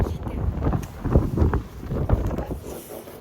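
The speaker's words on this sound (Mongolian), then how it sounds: "Нилээ салхитай." Strong wind buffets the microphone outdoors on a road trip toward Khamar Monastery, a continuous low, gusty rumble that rises and falls without a break.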